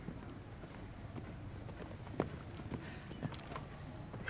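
A horse gallops on the Badminton Horse Trials cross-country course, with faint, distant hoof beats under a wash of outdoor crowd and wind noise and a few sharper thuds.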